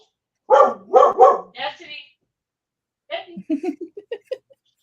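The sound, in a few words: dog barking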